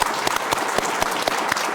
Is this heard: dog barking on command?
no